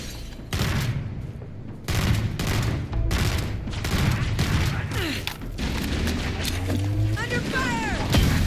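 Rapid gunfire in a Halo video game, dense bursts of rifle shots repeating in quick, uneven volleys over continuous battle noise, with brief voice callouts mixed in.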